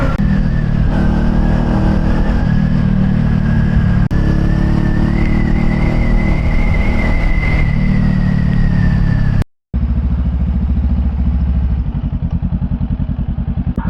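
A 2024 Honda Rebel 500 motorcycle engine revs loudly and steadily up close, with a rising and falling pitch. After a brief cut it returns to a rough, pulsing idle.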